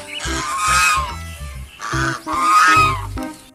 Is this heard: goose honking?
yes